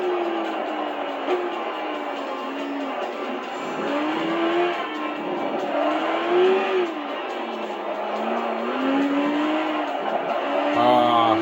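Race car engines in Gran Turismo 5 drone steadily with rising and falling revs and shifting pitch as the car races a track, loud and continuous, with occasional tire squeal and a faint voice underneath.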